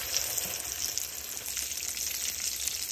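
Eggplant slices fry in hot mustard oil with a steady, close, even sizzle that stays constant throughout, no voices present.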